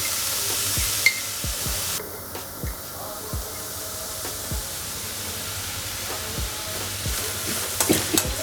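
Onion with green chillies, garlic, coriander and curry leaves frying in a pan, giving a steady soft sizzle with repeated low scraping stirs, no one talking.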